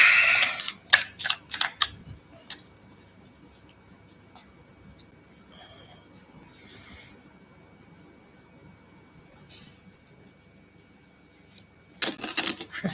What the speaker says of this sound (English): I'm shuffling the cards ready to pull our tarot for this week.